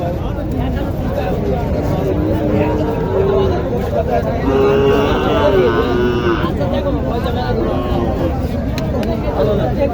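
A native cow lows at a busy cattle market in Joypurhat, with long drawn moos rising over a steady babble of crowd chatter and bargaining voices close by.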